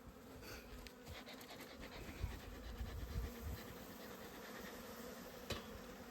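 Honeybees drone in a steady, soft hum at an open hive during an early-season inspection, with faint scratching and handling noises close by.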